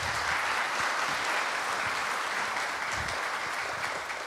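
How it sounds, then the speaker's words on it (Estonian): Steady crowd applause at an outdoor accordion festival, a thick, even wash of clapping from many hands that carries on without a break, easing slightly at the end. "Aplaus!"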